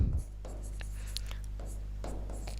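Chalk or marker writing numbers on a board during a Class 10 maths lesson on arithmetic progression, a few short scratchy strokes over a steady low room hum, with no talking.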